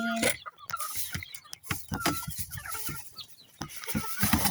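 Chickens cluck and squawk nearby in irregular bursts, mixed with rustling and handling noises, while a person speaks intermittently over the flock.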